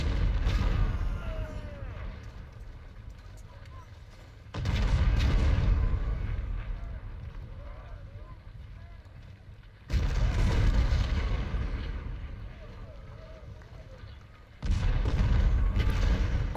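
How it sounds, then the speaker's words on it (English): Artillery fire in the Civil War strategy game Ultimate General: Civil War: three heavy cannon volleys boom out in turn, each a loud low burst that rumbles away over several seconds before the next, with faint speech between. "See what happens once we get the artillery up there. There we go. Start blasting away at them."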